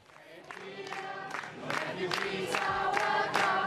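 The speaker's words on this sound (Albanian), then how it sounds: "Këto duartrokitje janë për refugjatët sirianë që arritën në stacionin e trenit në Munich të Gjermanisë." Crowd at Munich train station applauding arriving Syrian refugees, a steady wash of clapping and cheering that grows louder and denser over a few seconds.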